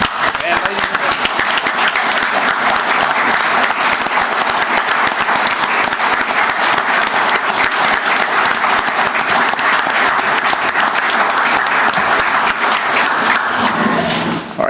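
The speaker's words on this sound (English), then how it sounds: "Applause for these guys." Loud, sustained applause from a crowd at a county commission meeting, steady clapping filling the room for several seconds before tapering off at the end.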